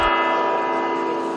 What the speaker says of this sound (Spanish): También repican las campanas en la Basílica del Pilar en Zaragoza